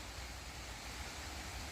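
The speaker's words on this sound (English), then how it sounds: "Sounds like I hear water." Small stream flowing under a footbridge on an Appalachian Trail hike in New York, a soft continuous rushing hiss of water, steady and fairly faint without distinct splashes.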